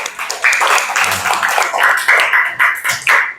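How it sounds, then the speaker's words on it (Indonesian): Children clap their hands for a classmate in a classroom, a loose burst of overlapping claps that rises and falls in rhythmic waves for a few seconds at moderate loudness, with no talk over it. "Tepuk tangan untuk teman kita semua anak-anak."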